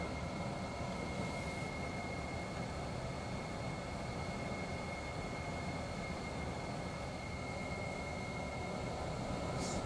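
A light airplane takes off on runway 33, its engine roaring as a steady, loud broadband drone with a constant tonal whine that holds for about ten seconds, with no speech.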